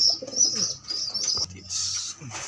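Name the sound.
blue bar pigeon squabs calling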